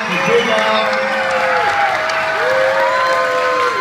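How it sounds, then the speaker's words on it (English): A loud crowd applauds and cheers for a morning show radio host at a school surprise in Snow Hill, with sustained close clapping under rising and falling whoops and shouted voices. "So please, a round of applause to Big Al"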